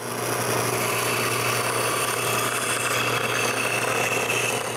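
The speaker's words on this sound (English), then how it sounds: "cutting this with my new bandsaw is much easier than with the scroll saw" A new bandsaw cuts through a wooden wheel piece, producing a steady, dense whirring hum with a constant motor drone underneath, loud and close throughout without pause.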